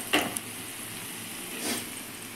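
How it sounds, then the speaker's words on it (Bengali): Marinated chicken drops into a pan of fried onions for homemade chicken biryani, bursting into a loud sizzle with a brief crackling splash, then a steady frying hiss that swells again near the end. "এবার আমি এর মধ্যে মাংসটা দিয়ে দেব।"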